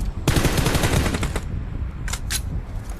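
Automatic gunfire in a PUBG Mobile match: a loud, rapid machine-gun burst lasting about a second, followed by two short separate bursts, close and dominant.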